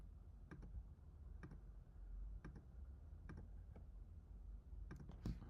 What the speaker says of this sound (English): So we're just clicking once, clicking again.